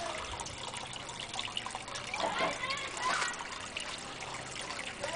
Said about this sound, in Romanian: Internă, cascadă.